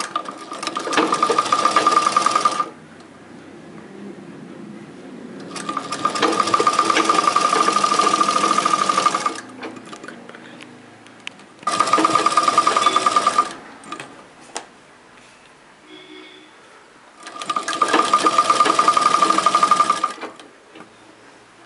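A sewing machine stitching fabric piping runs in four steady, loud bursts of rapid mechanical whirring and ticking, separated by short pauses with faint handling noise.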